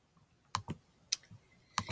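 Mouse clicks while uploading an image on a computer: three pairs of sharp, close double clicks spread across two seconds with quiet gaps between them and no talking.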